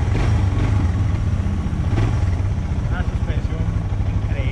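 A Suzuki DR 650 motorcycle engine runs with a low, throbbing rumble while riding, as people talk over it.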